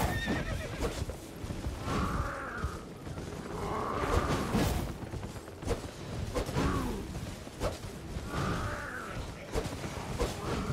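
Horses neigh and whinny repeatedly over steady clip-clop hoofbeats during mounted combat in the video game Elden Ring, with several loud whinnies spaced across the sequence and faint mechanical creaks in the background.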